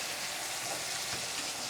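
Ginger, onion and garlic paste frying in a pan makes a steady, close sizzle with soft crackling throughout the brief moment, and no voices.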